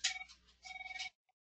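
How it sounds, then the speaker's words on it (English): A mobile phone rings in two bright electronic bursts lasting about a second, then cuts off into silence with a faint final blip. "that is my phone buzzing at the same time"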